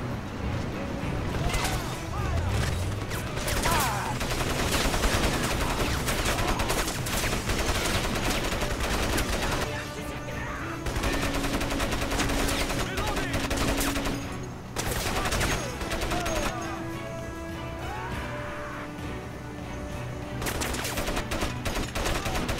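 Dense, sustained machine-gun fire in the video game Crysis, rapid bursts and overlapping shots, loud and nearly constant, with occasional voices underneath.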